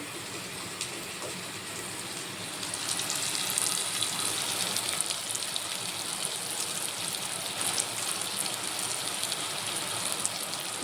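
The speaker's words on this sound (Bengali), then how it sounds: "হ্যাঁ বৃষ্টি দিয়েছে বন্ধুরা যা মজা লাগছে দেখুন বাইরে" Early-morning rain falls steadily outside, a dense, even hiss of drops on surfaces that swells slightly after a few seconds and continues without talk.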